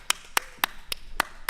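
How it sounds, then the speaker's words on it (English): Five crisp, evenly spaced hand claps from a small audience, sharp and close, each clearly separated by a short pause. "Can we get a big round of a home applause for Michelle Bazin?"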